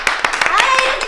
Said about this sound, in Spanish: ¡Aplaude, por favor! ¡Aplaude, aplaude!